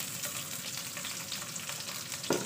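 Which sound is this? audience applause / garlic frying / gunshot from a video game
garlic frying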